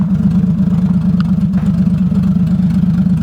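A car being prepared for a drift event idles roughly, its engine holding a steady, loud low rumble with slight unevenness and pulsing throughout.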